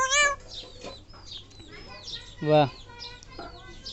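A pet parakeet imitates a chicken's clucking call, giving a few short squawks with one loud cackle in the middle, while a person speaks briefly nearby.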